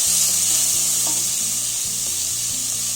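Thinly sliced large onion frying in a pan for a chicken stew, a steady loud sizzle with soft stirring scrapes throughout and no talking.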